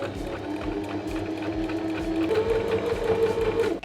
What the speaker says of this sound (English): All right, let's get sewing.